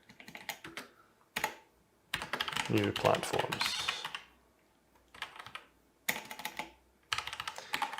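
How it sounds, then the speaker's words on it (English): Rapid bursts of typing on a computer keyboard while writing code, clustered clacking runs separated by short pauses, close and clear, with someone speaking briefly between them. "Fingers are getting tired after all the typing"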